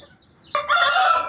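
A Polish rooster lets out a loud, close call that starts abruptly and holds as a bright sustained cry, with a faint chirp before it.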